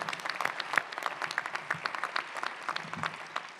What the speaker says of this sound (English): I want to give the parents a round of applause today.